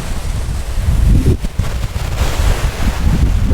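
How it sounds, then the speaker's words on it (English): Waves at a beach in Abu Dhabi roll in as a steady low roar, loud and close, with heavy wind buffeting the microphone throughout. "this is the beach we're staying at. It has some pretty cool waves"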